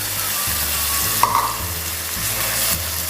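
Chopped ginger fries in hot coconut oil in a pan, making a steady, close sizzle with a brief clink partway through.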